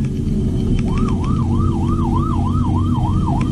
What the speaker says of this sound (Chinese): 隔没多久又传来警车的蜂鸣声，结果竟然是一辆载满菜的大货车。